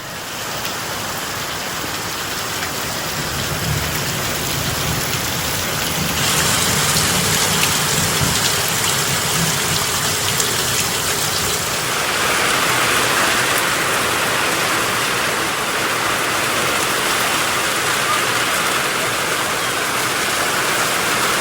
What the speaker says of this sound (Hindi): बहुत ही झमाझम और मूसलाधार बारिश हो रही